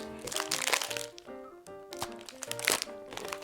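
Crunching bites into a Crispy Crunch chocolate bar, a run of close, crackly bursts with brief pauses between chews and faint voiced sounds mixed in.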